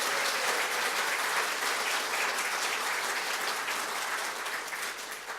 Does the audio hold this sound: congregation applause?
yes